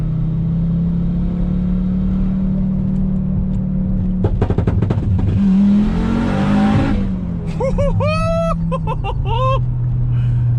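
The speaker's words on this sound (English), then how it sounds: "Gonna try the second gear, rolling anti-lag, 40 mile an hour." An Audi UrS6 C4 with an AAN big-turbo upgrade accelerates in second gear on rolling anti-lag: a loud engine drone is broken by a rapid burst of crackling pops, then the pitch climbs, followed by fluttering turbo whistles.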